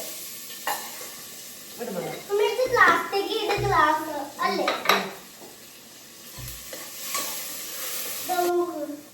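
Ginger and garlic sizzle in a pan, with stirring scrapes and utensil clinks against the pan. A voice talks over the frying in bursts and pauses.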